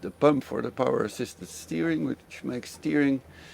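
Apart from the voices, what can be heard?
No distinct noise like a dog, phone or traffic.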